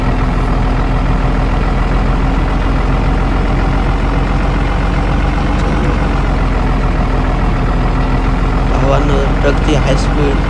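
A Tata truck engine in a truck driving video game drones steadily at a constant low pitch throughout, with a continuous rumbling hum and no pauses.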